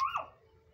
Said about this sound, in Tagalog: Ba't patahol ng tahol?